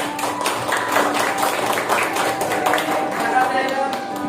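Schoolchildren in a classroom clap together in a quick, rhythmic patter that runs a few seconds, moderately close, with a teacher's voice mixed in.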